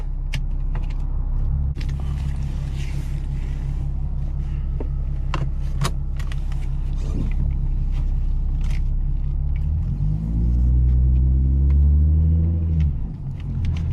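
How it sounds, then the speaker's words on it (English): Inside a 2014 Ford Mustang Premium with a Roush exhaust and 94k miles, a steady deep engine rumble drones throughout, swelling into a louder, rising burst of acceleration near the end, with no talking. "Ooh, she got a cool exhaust."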